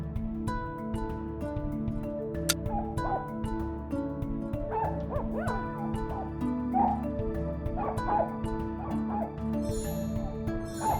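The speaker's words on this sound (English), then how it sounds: "The barking is coming from behind this door." A Pomeranian in a Nancy Drew video game barks behind a door in repeated short, high yips over a steady musical backdrop, a little muffled and spaced irregularly across the scene.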